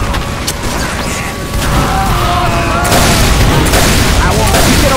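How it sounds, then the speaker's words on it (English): A bomb detonates during a Team Fortress 2 match, heavy booms and a broad blast rumble loudly through a busy soundscape of rattling gunfire and mechanical clatter. "And there goes the bomb."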